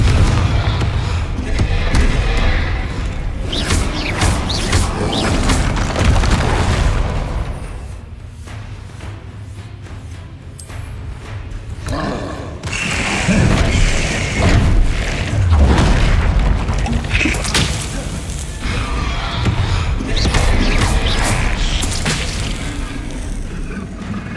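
Confringo fire-blast spell explosions in Hogwarts Legacy on PS5, with loud booming thuds and heavy impacts crowding a chaotic combat scene, easing briefly midway before surging again.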